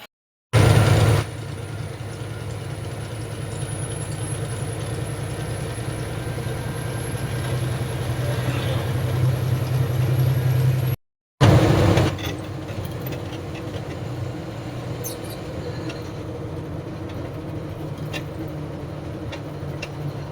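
A vehicle driving along a rough road gives a steady, low engine rumble with road noise throughout, interrupted by a brief cut partway through before the drone carries on.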